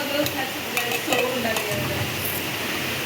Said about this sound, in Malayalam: നമ്മൾ ചോറ് കഞ്ഞി വെക്കുകയാണ് ഇവിടെ കറി വെക്കുകയാണ്.